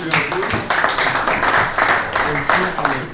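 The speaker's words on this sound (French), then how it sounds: "Nous allons applaudir encore au bouc." A room full of people applauds after a classroom roleplay on interculturality, steady dense clapping throughout with voices mixed in underneath.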